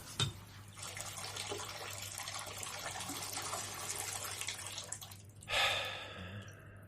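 Water drips and trickles steadily after a shower is switched off, a broadband wash of liquid noise with a brighter splash near the end.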